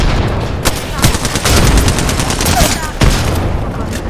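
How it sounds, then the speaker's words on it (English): Automatic weapon fire in Apex Legends gameplay, loud and close, with dense rapid bursts and sharp single shots over about four seconds, booming low end, no speech. "Shooting."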